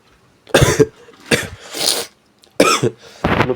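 Four close, loud coughs in separate bursts with short pauses between them, one person with a cold coughing alone.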